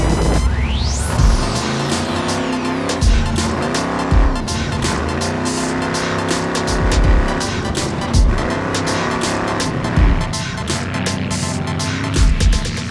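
An off-road race car tears across the desert at triple-digit speed in the King of the Hammers 2017 race. A loud, continuous engine roar rises and drops with repeated gear shifts, with clattering and rattling over the rough ground.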